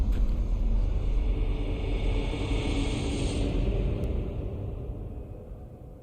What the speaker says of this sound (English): Thunder be clapping. It do be clapping.